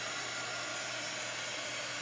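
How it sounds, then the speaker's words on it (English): A hair dryer on its cool setting dries a chalk transfer for a Chalk Couture craft project. It gives a steady, close, continuous whooshing whir with a low motor hum and no other sounds. "And I would say a hair dryer at cool speed is the best."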